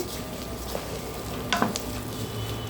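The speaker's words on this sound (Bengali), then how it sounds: "চালটা ভালো করে ভেজে নিয়ে" Rice frying with onions in a pot, a faint steady sizzle with a few soft scrapes and clinks from stirring, no voices over it.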